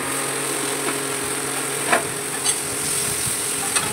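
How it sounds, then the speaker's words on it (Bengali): Vegetables frying in a pan, being browned under a lid and stirred now and then: a steady, moderate sizzling hiss with a few faint clinks, no talking. "এইভাবে একটু ভাজা ভাজা করে নেব সবজিগুলো।"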